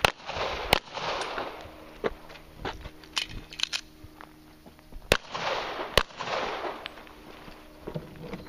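Gunshots ring out at a multigun shooting match, a handful of sharp cracks spaced irregularly with quieter shuffling and movement between them and no talk.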